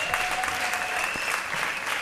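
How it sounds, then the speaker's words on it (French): Congregation applauding inside a church during a wedding service, brisk overlapping clapping throughout with a faint tone ringing underneath. "Applaudissez pour Déborah."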